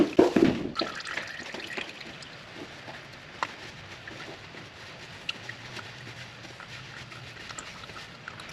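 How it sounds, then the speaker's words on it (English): Transmission gear oil from an R33 GT-R drips from the open drain hole, a faint, irregular patter of small drops, alone and close. "I'm going to continue to let that drain until it's done. So I'll be back after this has stopped dripping."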